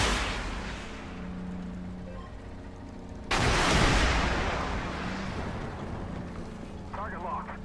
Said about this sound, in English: Switch to missile.